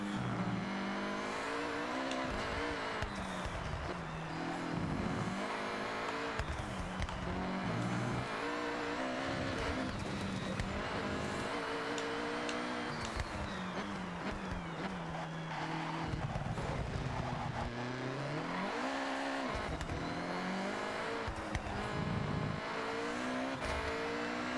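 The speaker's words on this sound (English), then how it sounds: "Holy shit, this thing accelerates really fast." A fast-accelerating car engine in Forza Horizon 6 roars through rising revs, with repeated climbs and sharp drops at gear shifts and occasional tire squeal, loud and continuous.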